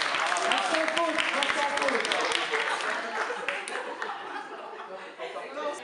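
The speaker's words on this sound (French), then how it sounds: "on peut peut-être les applaudir parce qu'ils ont quand même été très impressionnants" An audience claps for the winning team at a digital treasure-hunt event in Rennes, a lively burst of applause mixed with some laughter and chatter, strongest at first and then slowly fading away.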